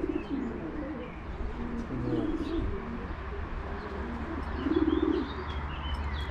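Racing pigeons coo in soft, low, throaty bursts, a couple of phrases apart, over a steady outdoor hum in Szczecin, Poland.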